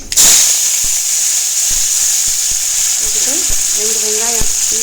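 Mustard seeds and curry leaves sizzle loudly in hot oil, with a steady close hiss and a few sharp pops throughout and brief talk near the end.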